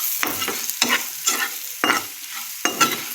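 Spices frying in a pan are stirred in about five distinct scraping strokes over a sizzling background, close and fairly loud, with no talking.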